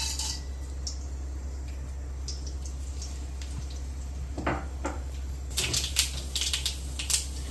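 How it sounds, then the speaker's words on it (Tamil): Mustard seeds, urad dal and chana dal splutter in hot groundnut oil in a pan, a soft scattered crackling and popping that grows sharper toward the end over a steady kitchen hum. "கடுகு நல்லா பொரிய ஆரம்பிச்சிருக்கு."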